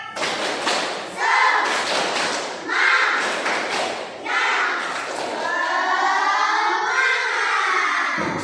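A primary-school class standing up to do a rhythmic spirit clap together, sounding as loud bursts of clapping and thumping in patterned groups, with voices chanting along between the beats.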